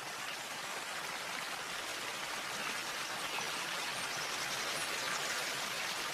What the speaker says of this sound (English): The stream, converted into a leat, leads to a waterfall where the mill wheel once turned